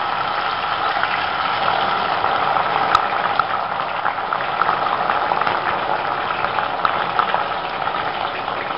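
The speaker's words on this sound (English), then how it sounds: "Now we'll deep fry our okra or bhindi." Okra (bhindi) deep frying in hot oil on high flame, a steady dense sizzle and bubbling that holds evenly throughout, close and fairly loud with no talking.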